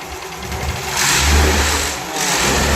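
Close up, a repaired Yamaha Ray Z scooter engine is revved twice in quick succession, rising from a steady idle to a louder throaty surge and easing back, with no talking.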